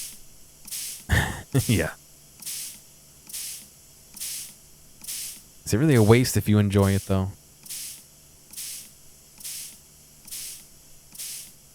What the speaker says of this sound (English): I don't know why I can't spray this one.